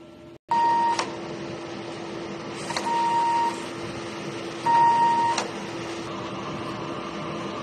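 A DTF printer runs a head cleaning cycle with a steady mechanical hum, short electronic beeps and brief pump or motor surges, close and alone without any talk.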